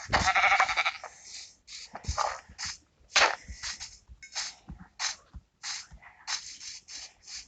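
Repeated bleating calls from Minecraft sheep, several overlapping bursts at irregular intervals, moderately loud with no talking.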